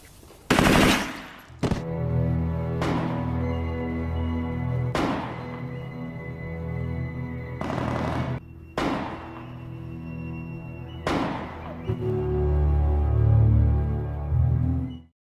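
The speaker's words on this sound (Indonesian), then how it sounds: "ketika para anak buah Chapo ditembak mati" Gunfire in a Mexican cartel film scene: several loud, sharp bursts and single shots spaced a second or two apart, ringing out over a low rumbling score, with no dialogue.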